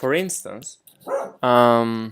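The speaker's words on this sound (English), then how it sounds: "I'm sorry, that's my dog." A pet dog barks indoors a few times, close and loud, cutting in among a man's spoken words, with one long drawn-out yelp at the end.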